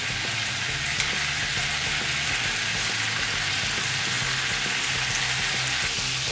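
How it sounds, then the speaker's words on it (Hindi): Chicken malai tikka sizzles over a gas flame, the pieces flipped repeatedly. A dense, continuous frying crackle carries on throughout with faint stirring knocks and no voices. "पूरे सभी साइड से पका रहे हैं टिक्का को, इसलिए बार बार उसे फ्लिप कर रहे हैं।"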